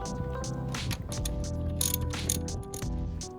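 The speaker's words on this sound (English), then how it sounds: "there's a 13mm bolt on the back. Unscrew that and take off that wire." Ratchet clicking with a fast, steady mechanical rattle of pawl and gears while a 13mm bolt is backed out on the rear of a C5 Corvette alternator, close and continuous with a few brief pauses.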